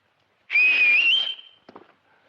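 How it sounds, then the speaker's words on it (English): A person whistles one sustained, wavering tone lasting about a second, clear and close, followed by a few faint soft sounds. "But I did learn how to whistle again."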